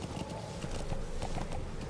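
Horse hooves clip-clopping at a steady trot in Metal Gear Solid V: The Phantom Pain, a rapid even rhythm of moderate loudness over game ambience.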